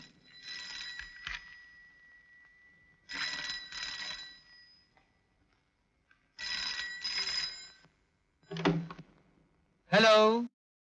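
An old telephone bell rings in bursts in a Hindi comedy film scene. Several loud, separated rings stand out against near silence.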